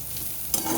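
Bottle gourd peel frying with poppy seeds, a steady close sizzle with a brief stirring scrape partway through.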